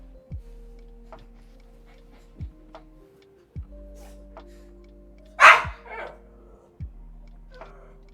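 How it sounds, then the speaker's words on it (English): A dog barks in a video game set in Sumeru, with a few sharp barks spread across the clip over steady game music and soft ticking effects, one bark standing out loud and close. "Quiet, dog."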